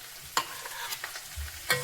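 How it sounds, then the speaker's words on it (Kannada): Ground masala being stirred into broth for sambar in a pot, with soft scraping strokes and a few sharper clinks of the spoon against the vessel, close and fairly quiet. "ಈ ಮಸಾಲೆಯನ್ನ ಈ ರಸವನ್ನ ತೆಕ್ಕೊಂಡಿದ್ನಲ್ಲ ಆ ರಸದೊಳಗೆ ಇದನ್ನ ಮಿಕ್ಸ್ ಮಾಡ್ತಾ ಇದ್ದೀನಿ"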